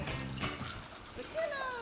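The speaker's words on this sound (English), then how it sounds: "The most exciting part where you just watch me pour it." Liquid from a plant-based cocktail garnished with a lime wheel splashes into a glass, with a brief close gurgling pour whose pitch rises near the end as the glass fills.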